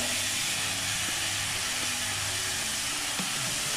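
Chopped onion with green chillies sizzling in a hot pan, a steady dense hiss that runs unbroken throughout, loud and close with no talk.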